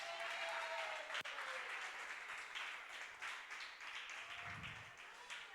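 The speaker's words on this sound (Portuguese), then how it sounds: "Você pode aplaudir Jesus?" A church congregation applauds during an evening service, a steady wash of clapping heard at a moderate distance and fairly faint, with a brief tone and a low thump partway through.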